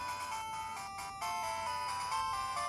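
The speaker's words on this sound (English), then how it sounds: "Give it a little speaker test." A bright electronic jingle plays from an Anbernic RG503 handheld console's small speaker, a chain of high beeping tones stepping up and down in a melody, getting louder at the end.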